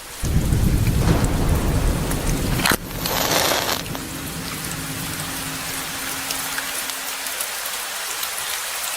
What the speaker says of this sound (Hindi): मुझे रात की बारिश पसंद नहीं